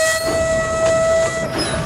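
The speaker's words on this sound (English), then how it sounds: "Stephen tried to whistle again." A steam locomotive whistle from an animated train story gives a steady, sustained tone over busy background music and effects, lasting about a second and a half before fading out, with no talking.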